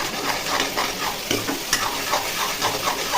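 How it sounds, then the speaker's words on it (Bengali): Turmeric, salt and spices frying in hot oil for paneer posto, a steady close sizzle with repeated scraping stirs, no talking. "হলুদ দিয়ে দিলাম, নুন দিয়ে দিলাম। নুনটা নিজের আন্দাজ মতো দিতে হবে। এটা একটু কষিয়ে নেব।"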